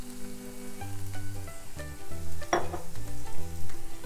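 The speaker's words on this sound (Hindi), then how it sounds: "और इसे अच्छे से मिक्स कर लेंगे और इसे 2 मिनट हम और पकाएंगे" A Mexican-style bean and corn filling sizzles and fries in a pan and is stirred, with a steady low hiss under prominent background music and a brief sharp clatter midway.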